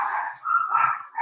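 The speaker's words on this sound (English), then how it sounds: "There go the dogs again." Dogs barking somewhere in the background during a university physics lecture hall talk, a short burst of yapping and barks that is moderately loud and continuous with no speech over it.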